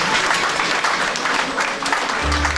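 A church congregation applauds and cheers steadily, a dense wash of clapping from a large indoor crowd that carries through to the end.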